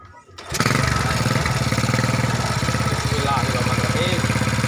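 A motorcycle engine catches and starts, then runs at a steady, loud, rumbling idle close by, with a buzzy mower-like tone throughout and no speech over it.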